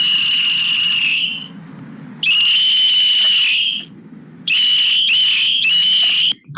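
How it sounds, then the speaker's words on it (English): A loud, shrill electronic traffic whistle blasts through a speaker in three long sustained bursts separated by short gaps, the last broken into quick pulses. "an exact whistle-like sound will be produced and"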